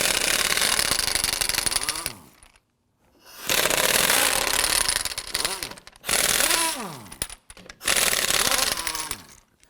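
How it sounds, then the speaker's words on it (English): Impact wrench with a 19mm socket spinning lug nuts off the front wheel of a 2008-2011 Ford Focus, four loud sustained bursts of rattling hammering with a rising and falling whine, separated by short pauses. "Using our 19mm socket, we're going to loosen and remove the lug nuts."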